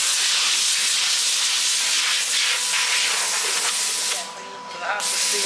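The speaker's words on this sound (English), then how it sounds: "that's it, ready for steaming." Loud, continuous steam hisses from a factory steamer used on a riding hat, a strong broad rush that dips briefly near the end before resuming.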